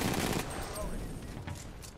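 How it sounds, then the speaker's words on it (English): Shotgun fire in the first-person shooter Titanfall 2, a few rapid punchy blasts crackling under in-game noise and bustle, the first loudest and the rest quick and close together. "You got a big, massive shotgun"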